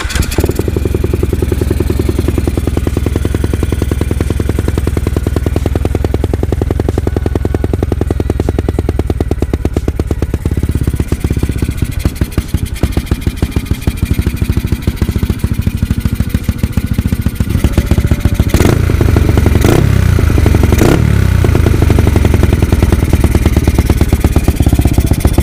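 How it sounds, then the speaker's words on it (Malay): A Yamaha LC135 motorcycle with a new exhaust starts and runs, giving a loud, close, rapid popping engine rattle that goes on for about twenty-five seconds and picks up sharp revving bursts near the end. "So mesti kau nak dengar kan bunyi spek baru LC aku ni."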